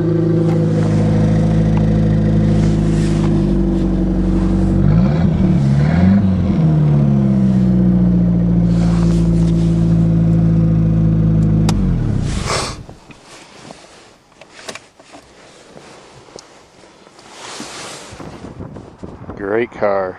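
A car engine revs hard outdoors on snow, loud and steady with wind buffeting the microphone, then cuts off abruptly; quieter rustling and faint voice-like sounds follow.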